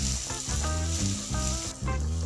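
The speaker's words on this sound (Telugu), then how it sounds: "దీన్నంతా కూడా కలుపుకుంటూ పచ్చి వాసన పోయేంత వరకు మనం ఇలాగే కలుపుకుంటూ ఫ్రై చేసుకోవాలి" Ginger paste sizzles and fries in a pan while being stirred for Rayalaseema-style pulihora, a steady close hiss with brief dips where the spoon moves through it, no voices.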